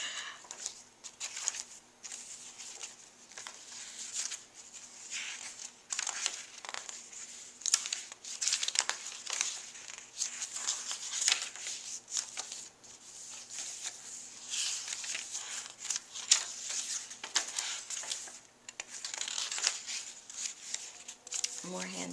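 Paper pages of a handmade journal are riffled and turned one after another, a steady papery rustle and flutter with soft crinkles, close by and fairly quiet throughout.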